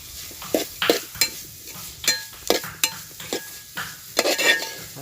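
Green chilies added to softened onion in a pan sizzle as a spoon stirs them, with repeated close scraping strokes and metal clinks in an uneven rhythm over a steady frying hiss, no talking.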